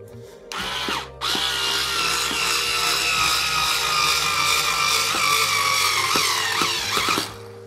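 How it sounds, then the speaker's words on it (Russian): An electric screwdriver drives a screw into wood, a loud, close whirring buzz that starts, stops for a moment, then runs steadily for several seconds before cutting off, with faint creaking under it and no speech. "Как видите, отвертка неплохо справилась."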